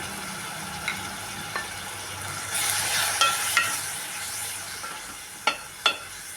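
Tamarind water being stirred into a simmering fish curry, with a steady sizzle and hiss throughout, a few sharp utensil taps and scrapes against the pot standing out near and alone.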